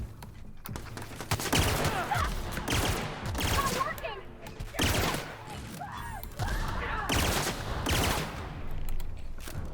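Gunfire from a weapon in The Outer Worlds, loud bursts of rapid shots in several separate volleys with brief gaps between them, and a voice speaking in between.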